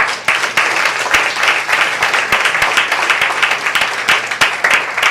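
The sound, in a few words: congregation applause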